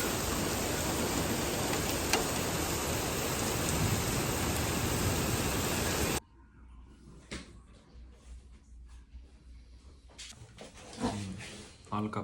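Steady rain pours outdoors on race day at an Ironman 70.3 triathlon in Jönköping, a dense loud wash for about six seconds, then cutting abruptly to quieter ambient noise with faint knocks and rustles.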